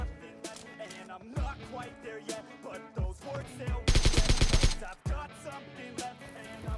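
M4 rifle with a 6x scope fires in a video game, short rapid bursts and single shots crackling in uneven clusters, then a sustained fast spray of automatic fire, loud and close.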